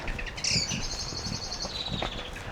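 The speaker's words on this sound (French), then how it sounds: "Ah, c'est agréable d'entendre les oiseaux." Birds singing in a park, a few clear whistled chirps and trills close by over a soft steady outdoor background, no one speaking.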